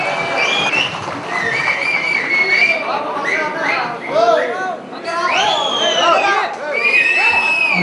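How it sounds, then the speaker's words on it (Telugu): Theatre audience at a stage play loudly whistling, shouting and cheering throughout, shrill whistles cutting over a dense, continuous crowd roar. "మంత్రి గారి డైలాగులకు ఈలలు కేకలతో స్టేజ్ అదిరిపోయింది."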